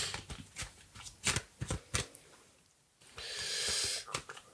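Tarot cards are shuffled by hand in a series of quick, crisp riffling bursts with uneven pauses, close and fairly quiet, ending in one longer continuous riffle.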